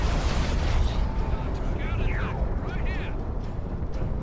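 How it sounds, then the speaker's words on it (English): Tzeentch Shrine in the strategy game Dawn of War 2 launching Doom Bolts amid battle, a dense rumbling roar of blasts with rising whooshing streaks, a voice talking over it. "The Tzeentch Shrine in a very aggressive position, shooting out those Doom Bolts"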